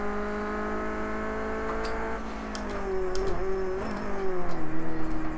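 A race car engine in Project Cars 2, played on a Thrustmaster TX race wheel, whines steadily at high revs, dips through gear changes, then bounces off the rev limiter in a rapid pulsing stutter.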